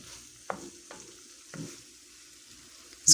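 Mutton kidney and browned onions frying in a pan with little oil, heard as a faint steady sizzle broken by a few soft stirring scrapes and a sharper clatter at the end.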